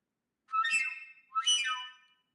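A foot-long ridged gas line hose blown forcefully, producing two separate breathy whistling tones rich in overtones, each lasting under a second with a short gap between, close and alone.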